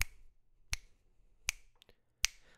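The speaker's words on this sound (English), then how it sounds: "I'll snap out a beat." Four crisp finger snaps tick out a steady beat, evenly spaced about three quarters of a second apart, close and dry against near silence.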